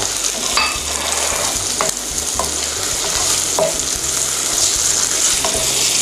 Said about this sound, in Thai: หอมแดงนะครับ ผัดให้หอมเลย